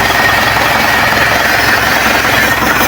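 A truck engine, Elf/L300 type, runs steadily after a full general overhaul, a loud, close, rough and even mechanical drone with no pauses.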